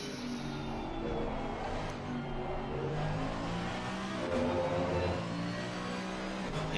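A Mercedes-AMG V8 race car in a sim racing game revs hard, chasing a Porsche down the straight at Barcelona. The drone is steady and sustained, with a faint accompanying engine tone and no speech.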